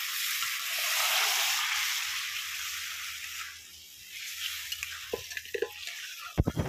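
Spices fry in a pan for a masala chana curry, a steady hiss of sizzling with occasional stirring scrapes and clicks that grow sharper toward the end.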